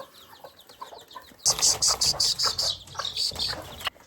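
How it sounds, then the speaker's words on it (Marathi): Chickens cluck loudly and repeatedly in bursts after a quieter start, close by, with some higher chirps mixed in. "ह्या जाळ्यात आपल्या कोंबड्या आहेत. आता सोडूयात त्यासनी."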